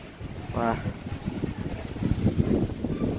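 Gusty wind buffets the microphone with a low, rumbling roar, rising and falling, during heavy rain, while a brief voice-like tone cuts through early on.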